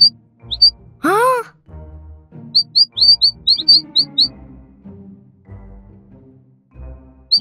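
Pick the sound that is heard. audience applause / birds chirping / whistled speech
birds chirping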